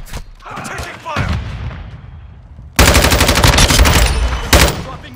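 Call of Duty: Modern Warfare II combat gunfire: close, loud automatic bursts with rapid rattling shots after a brief lull, with shouted voices in the mix.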